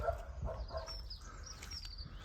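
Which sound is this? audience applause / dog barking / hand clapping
dog barking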